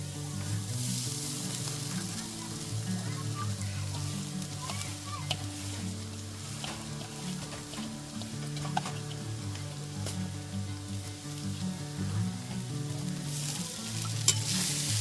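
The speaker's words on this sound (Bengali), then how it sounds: "চিড়েটা দিয়ে হালকা নেড়ে নেব।" Flattened rice (chira) sizzles steadily as it is fried and stirred in a hot pan for a Bengali chira pulao, with soft scraping of the spatula running throughout and occasional light clinks.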